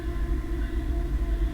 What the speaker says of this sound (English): You can hear the train going by in the background.